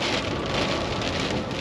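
A heavy storm sends dense rain drumming on a loaded truck, a loud, unbroken wash of pelting drops that holds steady for the whole stretch, with no voices.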